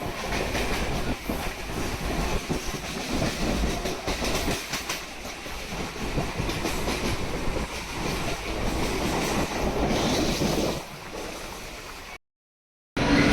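Steady rumble and clatter of a moving train near Mumbai heard from inside a carriage, wheels rattling over the tracks, continuous and fairly loud before a brief dropout.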